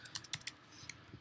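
Several quick, soft clicks of typing on a computer keyboard, close but faint, in an uneven rhythm over about a second.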